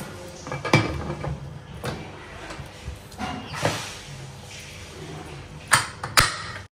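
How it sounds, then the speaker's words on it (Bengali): Someone bangs a cooking wok in a home kitchen, producing a few scattered metallic knocks and clangs with louder strikes near the end, over a low room background. "কেউ রান্নার কড়াই ঠুকছে ঠাং"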